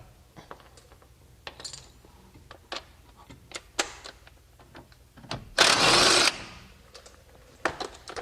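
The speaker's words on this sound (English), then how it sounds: "So there's two 19mm bolts that hold the carrier bracket in. Just get a wrench on there, pull those out." A wrench works the two 19mm bolts on a front brake carrier bracket of a C900 in a brake job, giving sparse sharp metallic clicks and taps and one loud rasping burst near the end, with no talk.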